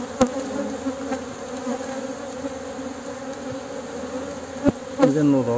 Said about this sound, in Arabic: إذا نغلق الخلية لأن النحل راه شوية مقلق